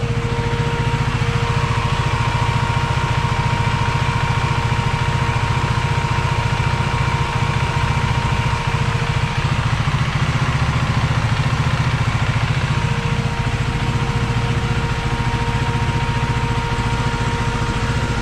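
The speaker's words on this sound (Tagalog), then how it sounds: "pero yan yung fan niya." Cooling fan on a Gen 2 KTM 390 Duke motorcycle whirs loudly and steadily up close, a continuous rushing drone with an engine-like hum beneath it lasting the whole stretch, no voices.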